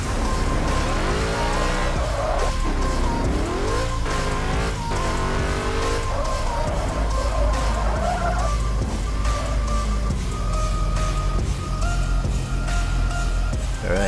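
Animated cartoon car drives and swerves through a driving-school course, with repeated loud tire squeals and skids over a steady engine drone, no talking.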